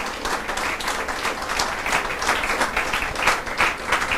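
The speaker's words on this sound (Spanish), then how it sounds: "Dé un aplauso al Señor." A church congregation applauds the Lord during a sermon, with steady, fairly loud clapping from many hands that continues throughout.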